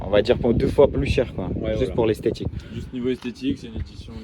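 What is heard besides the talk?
No everyday noises stand out.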